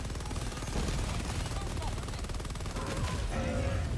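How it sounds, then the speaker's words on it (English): An orbital shotgun strike from the Helldivers 2 video game fires, a rapid continuous barrage of loud blasts rattling in a fast rhythm for several seconds, close and dominant, with a voice speaking over it. "The problem with orbital shotgun is it likes to shoot you."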